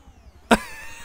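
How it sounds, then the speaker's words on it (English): An all-electric Formula E race car in Forza 7 gives a single sharp burst, then a faint high whine that fades quickly, with almost no engine roar. "So this is an all-electric Indy car, essentially. Oh my god, it's silent."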